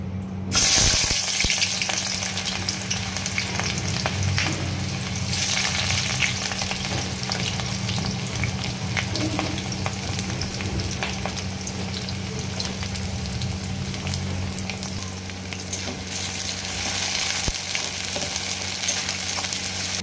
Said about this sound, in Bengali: সবার আগে আমি একটু কিছুটা পেঁয়াজ আমি ভেজে নেব।